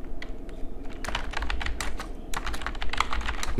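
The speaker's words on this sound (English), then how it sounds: "So let me type a tweet." Rapid clicking of a computer keyboard as a short message is typed, irregular bursts of close, crisp keystrokes with brief pauses, no talking.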